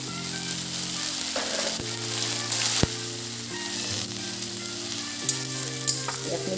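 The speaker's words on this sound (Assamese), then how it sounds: "পিঁয়াজখিনি কিমান ভাজি ল'লোঁ।" Chopped onions fry in a pan with cashews and spices while cooking a paneer dish, giving a steady close sizzle with occasional scraping stirs and no talk.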